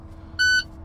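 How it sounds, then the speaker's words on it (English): A Class A truck's low air warning buzzer sounds once as brake pressure is fanned below 60 PSI: a loud, steady electronic tone lasting about a quarter second over a low idling rumble. "Low air warning light and buzzer is going off, telling me it's working properly."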